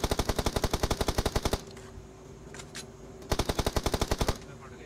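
Automatic gunfire in a battle royale shooter rattles off in two rapid bursts of evenly spaced loud shots, separated by a quieter gap with a few scattered thuds.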